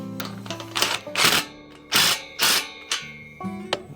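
A ratchet wrench tightening the top bolt on a farm gate hinge bracket, loud close bursts of rapid ratcheting clicks in several uneven strokes with short pauses between them.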